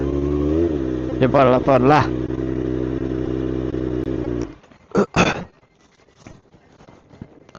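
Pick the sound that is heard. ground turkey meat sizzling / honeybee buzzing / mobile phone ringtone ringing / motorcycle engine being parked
motorcycle engine being parked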